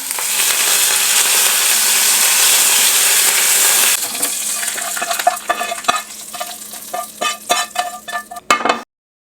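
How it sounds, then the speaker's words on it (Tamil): Mustard seeds and urad dal spluttering in hot oil for a tempering: a loud, dense sizzle for several seconds, then sharp irregular pops and crackles that fade out, close and without voices. "இப்போ கடுகு, உளுத்தம்பருப்பு, கடுகு நல்லா பொரியுது"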